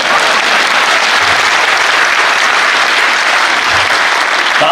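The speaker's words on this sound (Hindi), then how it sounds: "आप सबसे निवेदन करता हूं मेरे स्वागत में दोबारा जोरदार तालियां बजाएं" A live audience at a Hindi comedy poetry gathering applauds loudly and steadily, a thick unbroken wash of clapping from a large crowd that fills the whole stretch without pause.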